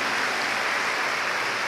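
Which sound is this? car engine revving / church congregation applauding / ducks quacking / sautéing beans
church congregation applauding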